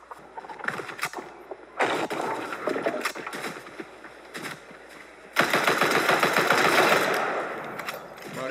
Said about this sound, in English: why do I keep getting shot from two different directions?